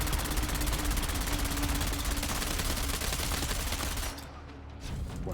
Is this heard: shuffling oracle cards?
no